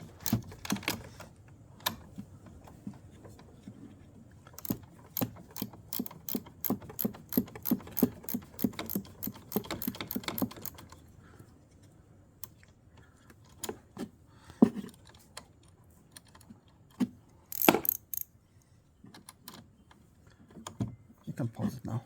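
Ratchet wrench loosening and removing the battery hold-down bolts on a 2018 Jeep Compass Trailhawk, heard as a dense run of sharp metallic clicks and ticks close by, thinning to scattered clicks and clanks later.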